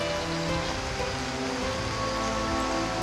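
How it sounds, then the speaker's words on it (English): A steady, dense downpour falls on the leaves and bromeliads of a tropical rainforest in northeastern Costa Rica during the wet season, a constant close hiss with no pauses. "Leaves and bromeliads capture most of the deluge."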